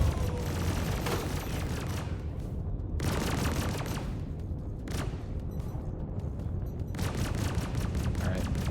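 Rapid, sustained bursts of ship weapons fire rattle through a Star Citizen capital-ship fleet battle, rhythmic machine-gun-like volleys separated by short pauses over a rumbling low backdrop, with voices faintly underneath.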